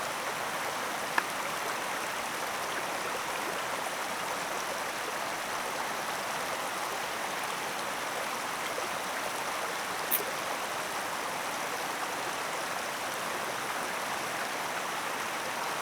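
A flowing mountain river gives a steady, even rush of water, moderately distant and unchanging across the whole stretch, with no voices and only a couple of faint clicks.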